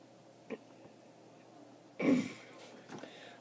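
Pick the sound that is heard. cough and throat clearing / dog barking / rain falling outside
cough and throat clearing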